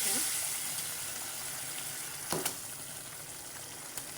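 Desi chicken pieces fry with spice paste in a pan, giving a steady moderate sizzle with a couple of brief utensil clatters partway through and another near the end.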